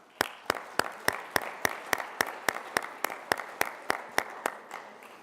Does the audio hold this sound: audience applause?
yes